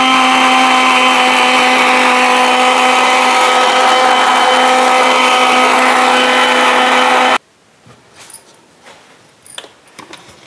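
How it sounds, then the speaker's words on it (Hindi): An electric blender runs loud and steady, blending sugar, roasted ground cumin and salt for a mint lassi, with a constant motor whine that cuts off abruptly, leaving faint kitchen clatter afterward. "इनको अच्छे से ब्लेंड कर लेते हैं"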